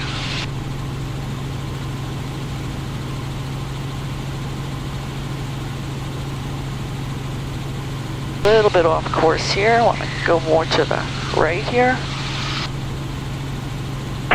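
A small aircraft's engine drones at a steady low idle while it taxis to runway 30 at Wenatchee, constant throughout, with a person speaking briefly over it in the second half.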